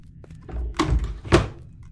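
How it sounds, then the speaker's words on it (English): Two heavy door thuds slam shut in the horror video game Cursed Baby, a loud bang near the start followed by a second louder slam about half a second later, with no voices over them. "Loud door."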